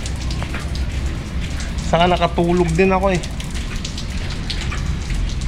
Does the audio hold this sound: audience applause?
no